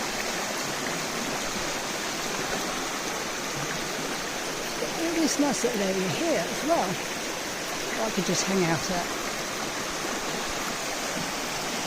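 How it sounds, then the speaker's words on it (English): A river flows steadily beside a tent camping area, a constant broadband rush throughout, with a person talking over it in the middle. "And I do like the river."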